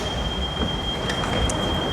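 A train at a Copenhagen station: steady rumble with faint wheel squeal and rail noise, moderately loud and continuous, no voices.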